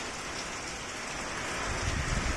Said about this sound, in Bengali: দেখো দারুণ পরিমাণে বৃষ্টি হচ্ছে।